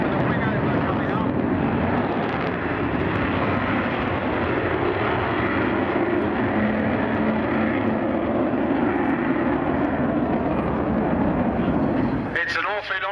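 Avro Vulcan bomber performing a wing over at the Goodwood Revival airshow, a loud, continuous deep jet roar that rumbles steadily throughout as it passes overhead, with a commentator speaking over it.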